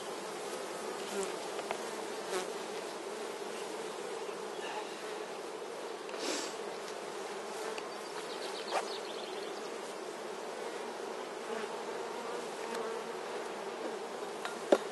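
Honeybees buzz steadily around a Dadant hive outdoors during a colony transfer, a constant dense drone of many insects with an occasional louder bee passing close by.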